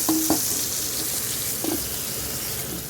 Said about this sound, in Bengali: তেল গরম হয়ে গেছে, মাছটা দিয়ে দিচ্ছি।